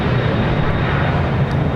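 A Lufthansa airliner takes off from runway 24 left at Los Angeles International Airport at night, a steady, loud, broad engine roar holding constant throughout with no voices.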